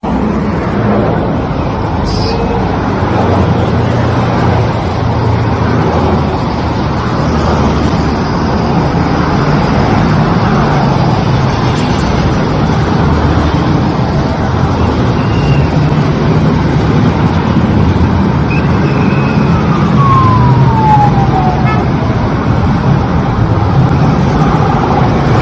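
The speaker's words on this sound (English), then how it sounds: "That is the convoy of the Imo State Governor" The Imo State Governor's motor convoy passes along a Nigerian road as a continuous loud wash of engines and tyre roar, with a faint siren wail rising and falling beneath the traffic noise.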